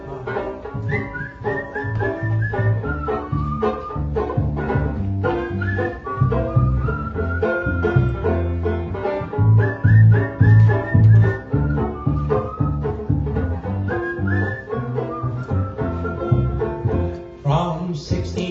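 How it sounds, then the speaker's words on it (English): A group whistles a melodic tune in unison over accompanying music at a song gathering, lively and sustained without speech. "We started off with whistling."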